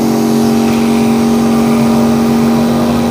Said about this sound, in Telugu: ఇప్పుడు డబుల్ ఆన్ చేస్తున్నా.